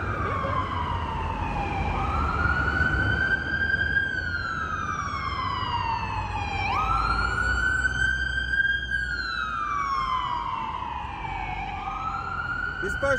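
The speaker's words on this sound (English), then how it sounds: "I'm going to let the ambulance pass." An ambulance siren wails in long rising and falling sweeps, fairly close and steady, over low traffic rumble.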